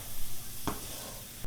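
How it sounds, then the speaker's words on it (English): Onions frying in a pan for bolognese sauce, a steady soft sizzle with a brief stir scrape in the middle, close and fairly quiet. "you want to cook it till the onions are going translucent like this before you add your protein"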